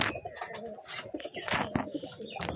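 Pigeons coo in repeated throaty bursts inside an indoor loft while birds scuffle and fight, close and fairly loud, with occasional wing flutters and scraping mixed in.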